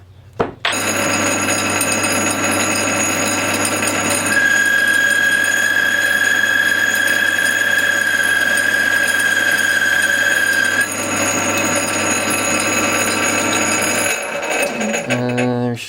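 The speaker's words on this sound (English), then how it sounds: "So let's put the collet chuck in and machine these down." A Sieg C6 metal lathe fitted with a collet chuck runs steadily while machining bolts shorter, its constant motor hum joined partway through by a thin high-pitched cutting whine, with no talk over it.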